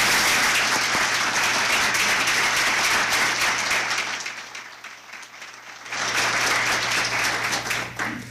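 Audience applause welcoming a speaker to the City Club in Cleveland, dense and sustained clapping from a large crowd that thins briefly midway, then swells back up to full strength.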